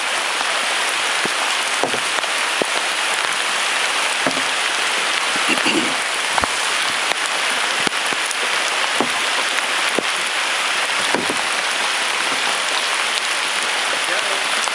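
A downpour falls on the Gunpowder River, a continuous loud wash of rain with scattered sharper drop impacts, and a voice is briefly heard partway through.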